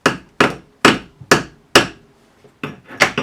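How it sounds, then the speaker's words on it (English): Sharp metallic hammer taps on a corroded steering rack bolt of a Porsche 928, about eight close, distinct knocks in a loose rhythm, loud and clear with no talk. "Let's just give it a little tap."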